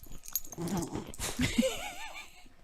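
A pet dog whimpers indoors at home, its thin, wavering whine rising and falling for about a second amid soft rustling and handling noise, close and fairly quiet.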